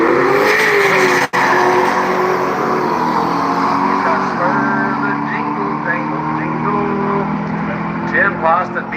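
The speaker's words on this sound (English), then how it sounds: "this beautiful little white C5Z. Taking on that good-looking 69 Camaro." A white Corvette C5Z drag races an orange 1969 Camaro SS at a street car takeover event at a motorsports park, with loud engines roaring and revving throughout while an announcer talks over the noise.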